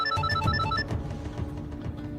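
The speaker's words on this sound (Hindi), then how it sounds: "जारा का फोन" A telephone bell rings in repeated bursts, loud and close, for about a second before giving way to a low rumbling background.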